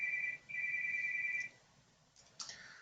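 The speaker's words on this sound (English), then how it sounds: "Another phone call." An electronic phone ringtone for an incoming call repeats in two bursts, then stops, followed by a brief faint click and a lower tone.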